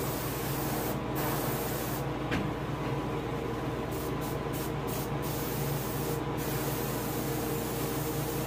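Spray paint hisses close up as yellow is applied over the back of a largemouth bass taxidermy mount, a steady continuous hiss with only brief breaks.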